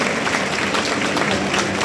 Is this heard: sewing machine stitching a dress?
no